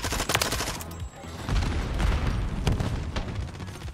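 Gunfire in Modern Warfare 3 multiplayer: loud, close bursts of rapid automatic shots with booming reports, running almost continuously over a few seconds of game noise.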